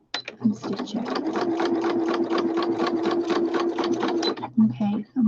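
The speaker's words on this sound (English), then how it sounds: "So I need to stitch here with a straight stitch." A sewing machine runs a straight stitch through fabric, a fast, even mechanical chatter of needle strokes that is close and steady for about four seconds, starting and stopping with a few brief clicks at each end, while a person talks.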